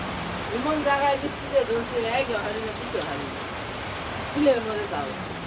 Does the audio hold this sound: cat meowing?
no